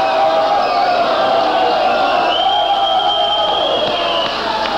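Crowd cheering and shouting at a 1984 rockabilly concert in Bristol, a steady loud roar of voices sustained throughout with no break.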